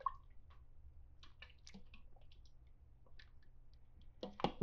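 A slow cooker of beef, hamburger, chuck, bacon and hot dog soup is stirred, giving soft wet squishes, drips and light spoon clicks, quiet and close, with a louder clatter at the end.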